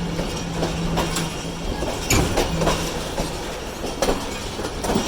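The Rehman Baba Express crosses Kotri Junction with steady rumbling and clickety-clack from its wheels on the rails. A brief squeal and a few louder rail joint thumps come through the continuous din.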